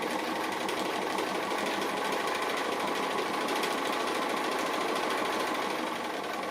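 A sewing machine stitching applique onto batik cloth runs steadily and fairly close throughout, its fast even whirr continuous with no pauses and no voices.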